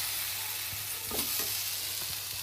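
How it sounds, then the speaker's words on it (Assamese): A spoon works potatoes and jaggery around a hot cooking pan, giving quiet scraping strokes over a faint, continuous sizzle with no voices. "এইদৰে অকণমান সময় মই লৰাই থাকিম গুড়খিনি মেল্ট হোৱালৈকে"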